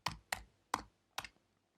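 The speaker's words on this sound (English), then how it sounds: "So let's type in Envato Elements." A computer keyboard is typed on, four quiet, distinct keystrokes in an uneven rhythm, close by and alone.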